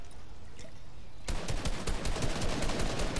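Rapid automatic gunfire in a video game, starting suddenly after a quiet stretch and continuing as a loud, close, steady rattle of repeated shots.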